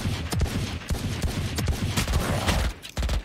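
A grenade and rapid gunfire in the Valorant video game make a dense, close volley of sharp shots and bursts that runs almost without break, ending in a short pause and a final crack.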